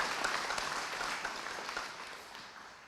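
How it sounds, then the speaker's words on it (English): Audience applause at a veterans hall of fame ceremony in Hamilton, a soft, distant wash of steady clapping that gradually fades out. "They do deserve a round of applause."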